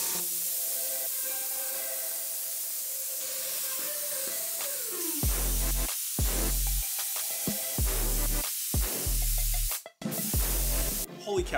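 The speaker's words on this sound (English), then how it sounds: "And to test it out, I actually just spray my racks." A spray gun hisses neon paint onto surfboard racks, first as a steady hiss and then in a string of short, repeated bursts with brief pauses between them.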